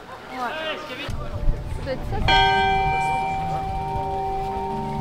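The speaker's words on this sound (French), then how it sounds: "Ça porte malheur de sonner la cloche avant la compète." A church bell rings out before a triathlon, one clear struck tone with a long ringing sustain that fills the second half, while a voice speaks in the first part.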